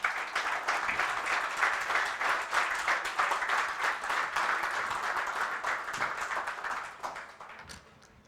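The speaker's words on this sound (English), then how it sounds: "One more round of applause." Audience applause at a workforce development event, a full burst of many hands clapping, dense and sustained for several seconds before tapering off near the end.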